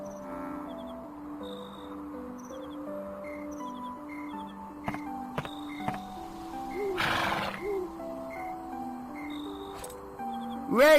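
A horse whinnies in the Dragon Quest VIII video game, a short rising neigh cutting in midway over a soft looping melody with light chiming notes, fairly close and clear.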